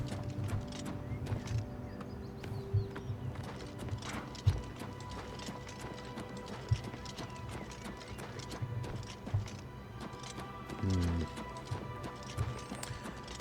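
Horse hooves clip-clopping in the video game Oblivion Remastered, a faint, steady rhythm of hoof beats with occasional mechanical clicks, no talk over it.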